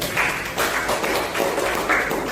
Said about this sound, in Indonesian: kita berikan aplaus untuk diri kita semua